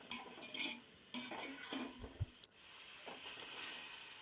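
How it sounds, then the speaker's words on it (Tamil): Ginger garlic paste and spices stirred in a cooking pot for chicken biryani give quiet, intermittent scrapes and clinks of the spoon against the pan, with a faint frying hiss underneath. "இப்போ போட்டு நல்லா இதை என்னப்படி நல்லா மிக்ஸ் பண்ணணும்."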